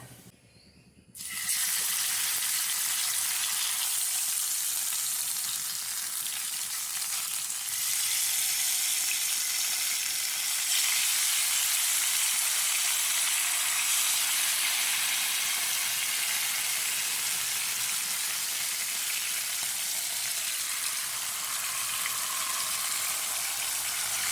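Mustard seeds splutter and crackle in hot oil while tempering for a jackfruit thoran in a home kitchen, a steady dense sizzle holding for over twenty seconds with no talk.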